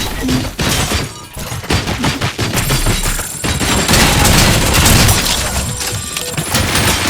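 Dense, sustained gunfire from the RoboCop: Rogue City video game, with rapid overlapping shots and booming impacts filling the whole stretch, while voices shout over the firefight.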